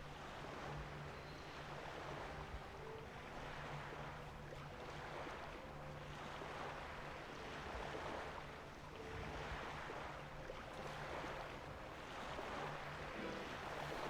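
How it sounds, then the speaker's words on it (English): Ocean waves in the Mafia video game roll and wash in a steady, loud, windy surge with no voices over it, swelling and easing every few seconds. "Those ocean sounds are so loud."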